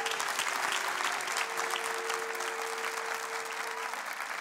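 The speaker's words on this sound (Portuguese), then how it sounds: "Uma salva de palmas para o Rodrigo" An audience on Portugal's Got Talent 2021 gives a child contestant named Rodrigo sustained applause, a dense, even wash of clapping with a faint steady tone beneath it.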